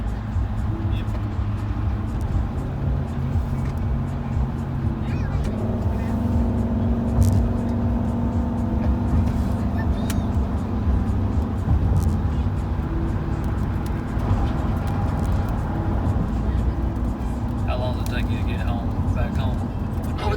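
Road traffic rolls past a hotel shuttle heading from Fort Lauderdale to the Miami cruise port, a continuous low rumble of cars and engines with occasional passing vehicles, while people talk inside the shuttle over the drone.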